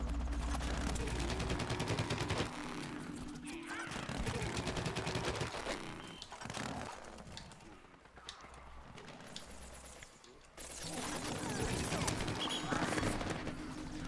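Dense rapid gunfire in Plants vs Zombies: Garden Warfare, sustained bursts of shooting that break off and resume, loud and close, with game effects layered throughout.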